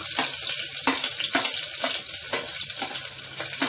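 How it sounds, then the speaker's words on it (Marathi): Onion sautéing in a hot pan with cumin and curry leaves for khichdi, a loud continuous sizzle broken by regular stirring scrapes about twice a second, close and with no talking. "कांदा चांगला परतून घ्यायचा"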